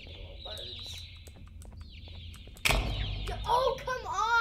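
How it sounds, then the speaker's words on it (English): Small birds chirp and tweet in the horror game Garten of BanBan 2, with a sudden loud flapping burst midway, followed by busier twittering calls over a low background rumble. "Stupid little birds."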